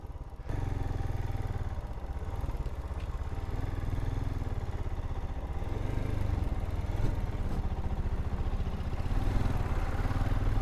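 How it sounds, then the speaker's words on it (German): A tractor engine chugs steadily and nearby on a French country road, heard from a Royal Enfield Himalayan motorcycle riding behind it, with continuous rumbling and clatter and no break for about ten seconds. "Genau jetzt muss hier natürlich so ein Traktor im Weg sein"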